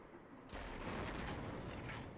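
Burst of gunfire from a World War II shooter game, Medal of Honor: Frontline, breaking in after a quiet half-second and continuing as dense, rapid crackling shots, fairly loud and without talk.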